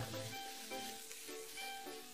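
Ginger, garlic and lard sizzling and frying in an uncoated non-stick pan, a dense, steady hiss close up with no voices.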